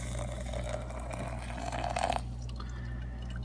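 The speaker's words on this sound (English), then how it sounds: "Pour some water in." Hot water pours into an AeroPress coffee maker topped with a funnel, a steady close trickling stream that swells briefly near the end, then stops, leaving a low hum.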